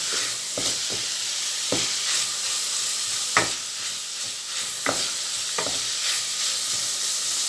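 Minced pork stir-fried for northern Thai larb, a constant hiss of frying with sharp spatula scrapes against the pan every second or so, heard up close and without any voices.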